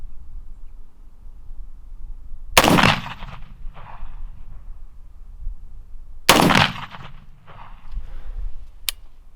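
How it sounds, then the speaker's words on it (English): Two sharp rifle shots fired at a 20-yard target while sighting in with a 20-yard zero, each a loud close crack followed by a short rolling echo, spaced a few seconds apart outdoors. "Okay, 20-yard shot with the 20-yard zero. It ought to shoot right on."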